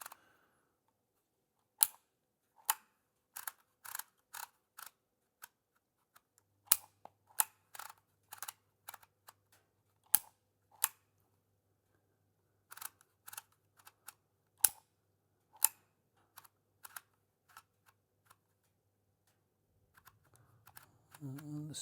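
A Dymo Omega label maker embosses letters under firm pressure, giving sharp isolated clacks and snaps in quick irregular bursts with short pauses between, close and crisp over near silence, with a brief low hum partway through.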